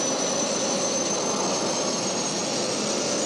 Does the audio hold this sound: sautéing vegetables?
no